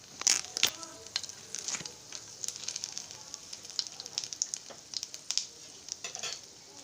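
Bay leaf and whole spices sputtering in hot oil in a pan while cabbage curry is started, with crackling sizzle bursts and sharp pops, close and fairly quiet.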